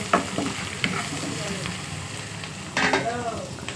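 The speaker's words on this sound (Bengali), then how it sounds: "মশলাটাকে আমি ভালোভাবে কষে নেবো বন্ধুরা।" Mixed spices and onion frying in a pan for bottle gourd greens, a continuous sizzle with a few sharp stirring scrapes of a spoon against the pan.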